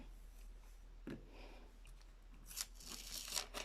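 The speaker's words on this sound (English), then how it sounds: "I'm just going to use a pair of scissors" Scissors snip and crunch through a stiff lino print stencil in a few close, quiet cuts, with faint rustling and no talking.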